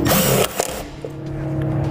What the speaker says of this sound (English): take the provided self-tapping screw, place it over our ground wire here, and go into sheet metal on the body